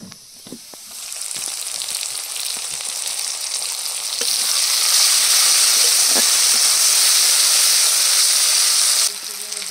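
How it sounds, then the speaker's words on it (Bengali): Ground cumin paste dropped into a pan of onions and garlic already fried until reddish brown, in a village kitchen, giving a loud, close, steady sizzle that swells and stays strong, with a few light stirring knocks. "পেঁয়াজগুলো লাল লাল করে ভেজে নিয়েছি, এবার জিরা বাটা দিয়ে দেবো।"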